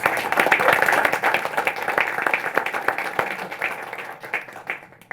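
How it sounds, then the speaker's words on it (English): Audience applause for a speedlight photography demonstration, dense clapping that starts loud and steady and tapers toward the end, with a few sharp individual claps standing out near the close. "Can we give him a round of applause?"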